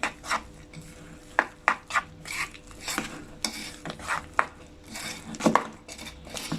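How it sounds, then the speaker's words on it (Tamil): Rice flour is stirred into a thick vegetable omelet batter in a bowl, making close, uneven scraping and clinking strokes of a utensil against the bowl in an irregular rhythm, with no voices. "அரிசி மாவை போட்டு நல்லா கலக்கிடுவோம்."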